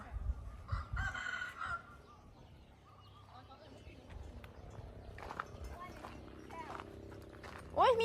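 A rooster crows near the end, clear but not very close, after a stretch of faint outdoor background with people talking.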